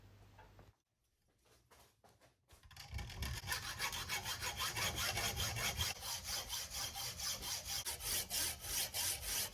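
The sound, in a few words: sawing a slit in a hard steel bar held in a vise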